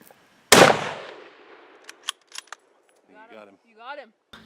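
Rifle shot fired freehand during an elk hunt in Colorado, a single loud, sharp crack outdoors followed by a fading echo, then faint rustling and brief talk.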